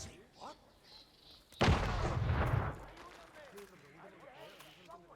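An explosive detonates in Hitman 2 at Santa Fortuna, Colombia, a loud close blast lasting about a second with a rumbling tail, followed by quieter ambient game sound and faint chatter.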